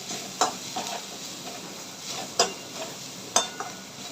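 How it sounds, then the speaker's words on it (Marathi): Spices being stirred and roasted in a pan over low heat for a sandgya curry: a faint, steady sizzle broken by a few distinct scraping strokes of the spoon, close and quiet with no voices. "गॅस बारीक करायचे आणि व्यवस्थित मसाले मिक्स करून घ्यायचे"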